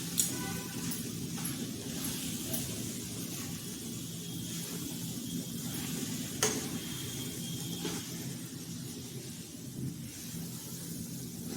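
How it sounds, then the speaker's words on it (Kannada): Thick sweet mixture is stirred and slowly roasted in a heavy-bottomed pan for a traditional sweet, giving a steady low sizzle and soft scraping throughout, with a few faint clinks. "ಎಲ್ಲ ಚೆನ್ನಾಗಿ ಮಿಕ್ಸ್ ಆಗೋ ಹಾಗೆ ಹಾಕ್ಕೊಂಡು ನಿಧಾನಕ್ಕೆ ಹುರಿಬೇಕಾಗತ್ತೆ"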